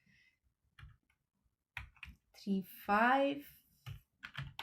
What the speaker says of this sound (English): So let me quickly type it